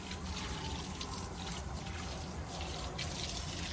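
Steady rushing and splashing water washes soil away across a terrace garden, continuous, close and fairly loud, with no voices.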